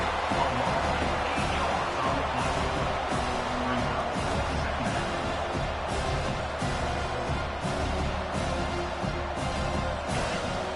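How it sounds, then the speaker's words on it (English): Stadium crowd roaring at a college football game in CFB 25, a steady dense wall of loud cheering and noise held throughout, with faint game sounds underneath. "The roar of the crowd trying to fuel this defense to keep them pinned in their own end."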